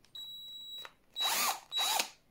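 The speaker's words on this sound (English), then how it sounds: "So here we have Parkside drill." A Parkside 20-volt cordless drill whirs in three separate bursts: a first run with a thin high whine, then two shorter, louder spins with brief pauses between, heard up close with no talking.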